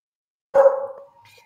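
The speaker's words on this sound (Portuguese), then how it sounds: "Os cachorrinhos estão falando muito." A small dog gives a single sharp, fairly loud bark with a short yelping tail, close by, followed by a faint second yip; no talking.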